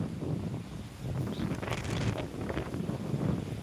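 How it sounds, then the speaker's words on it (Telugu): Strong gusting wind buffets the microphone outdoors with rain starting to fall, a steady low roar with louder surges throughout and no voices. "ఫుల్గా గాలి వస్తుంది"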